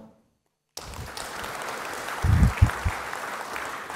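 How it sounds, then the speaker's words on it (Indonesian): Audience applause begins abruptly after a brief silence, a steady patter of clapping with a few louder low thumps partway through, continuing to the end. "harus harus harus tepuk tangan"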